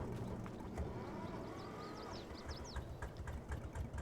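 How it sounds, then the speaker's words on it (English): An old tractor engine in Farming Simulator 22 chugs steadily with a low, knocking rumble throughout, moderately quiet, with faint high chirps above it. "this is the top speed of my tractor, but just listen to the sound"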